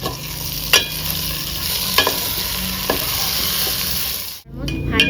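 Ginger and four green chillies frying in a pan, a loud steady sizzle with a few sharp scrapes of the spatula about a second apart, close up, ending in a brief sudden drop before the hiss resumes.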